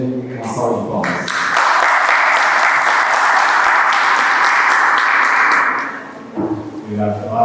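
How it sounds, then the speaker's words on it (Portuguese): Audience applause welcoming Fred onto the stage at a corporate governance panel: a dense, steady wash of clapping that swells in, holds loud for about five seconds, then fades out under a speaking voice. "Então, vamos receber aqui o Fred, uma salva de palmas."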